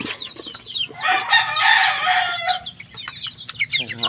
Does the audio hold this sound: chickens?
yes